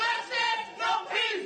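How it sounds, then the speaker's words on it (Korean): A crowd gathered outside a courtroom boos a prison sentence, with loud, sustained jeering that swells and dips in waves of many overlapping voices. "예상보다 낮은 형량 선고에 법정 밖에 시민들은 야유를 쏟아냈습니다"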